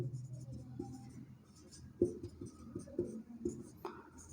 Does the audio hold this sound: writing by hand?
yes